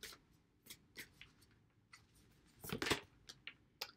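Tarot cards being shuffled by hand, a series of soft, quick riffling and rubbing bursts with a denser flurry near the end, close and fairly quiet with no talking.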